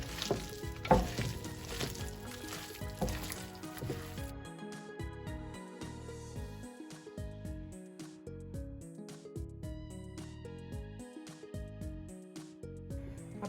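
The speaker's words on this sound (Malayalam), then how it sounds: "ഇനി ഇത് രണ്ടും കൂടെ നന്നായിട്ട് മിക്സ് ചെയ്തെടുക്കണം." Batter and marinated boneless chicken for onion chicken pakoda being mixed together, with soft wet squishing and stirring at close range and a steady background hiss.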